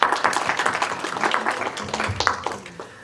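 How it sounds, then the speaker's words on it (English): Audience applause at a conference closing, a short burst of scattered clapping that is fairly faint and thins out toward the end. "So a big round of applause for all of you once again."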